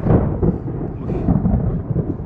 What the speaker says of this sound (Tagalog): Inabutan na ako ng kulog.